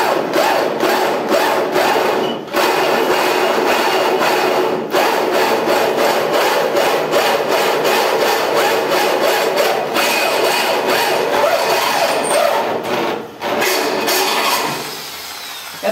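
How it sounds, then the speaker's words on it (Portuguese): A drill bit bores through 3 mm iron while a motorcycle tow hitch is being fitted, giving a steady, loud grinding whir that runs continuously near the mic with brief dips, no talk. "Tô furando rápido porque a broca tá boa."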